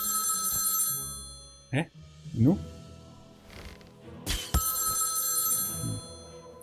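A telephone rings repeatedly in South Park: The Stick of Truth, bright trilling bursts against game sounds while a man makes short exclamations over it.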